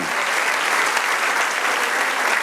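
A church congregation breaks into dense, sustained applause during a sermon, a loud, even wash of many hands clapping together without a pause.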